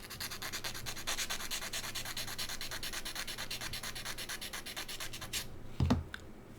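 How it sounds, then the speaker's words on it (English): Steady rhythmic rasping of sandpaper rubbing along the edge of a plastic part for a 1/35 scale Scammell Pioneer and trailer model kit, close and continuous before stopping with a brief clunk near the end. "We'll sand one edge of these and put it toward the middle just a little bit."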